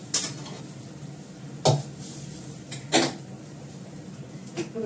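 Chowmein stirred and fried in a little oil, with a soft steady sizzle under three sharp spatula-on-pan scrapes and clinks spaced across the stretch, close by and with no talking.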